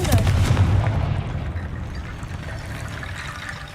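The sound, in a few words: Confringo blasting curse explosion in the video game Hogwarts Legacy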